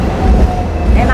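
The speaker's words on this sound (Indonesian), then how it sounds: "tram ini kayak kita naik delman, jadi ada gelodak-gelodaknya gitu, kayak kereta lah" A Hong Kong double-decker tram rattles and clatters along the street, a loud, continuous rumble with a rhythmic jolting and a faint metallic squeal near the end, heard from on board.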